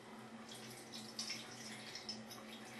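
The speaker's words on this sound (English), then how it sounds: "We want to squeeze out as much water as we can without going crazy." Thawed frozen cauliflower is squeezed by hand in a kitchen, and faint trickling and dripping water runs steadily throughout over a soft hiss, with no talking.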